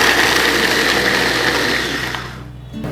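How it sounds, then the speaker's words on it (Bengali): Electric mini chopper whirring as it chops green chilies, a steady loud motor drone for over two seconds that then winds down and cuts off, with no talking. "তো আমরা মাত্র কয়েক সেকেন্ডে মরিচগুলো কুচি করলাম।"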